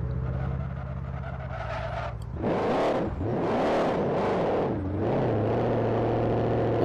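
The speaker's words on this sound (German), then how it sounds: "Das hört sich an wie Motorschaden." A car engine in Forza Horizon revs and sputters roughly on a country road, pitch rising and falling in uneven surges, loud and close with a strained tone of engine damage.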